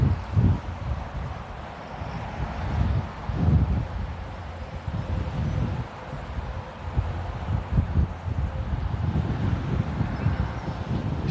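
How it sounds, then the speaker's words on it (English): Breezy wind blows outdoors beside a road, giving loud, gusting rumble and buffeting on the microphone that rises and falls over several seconds, with no speech. "It's breezy."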